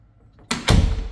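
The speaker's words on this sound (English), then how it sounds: "Door closes fine." A door in a house is pushed shut, a quick sliding sweep followed by a loud, close thud as it closes, with no talk.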